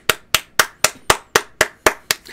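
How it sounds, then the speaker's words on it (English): Nine sharp hand claps ring out close and loud at an even, brisk pace, each a crisp single smack with no talking. "It deserves a fucking clap."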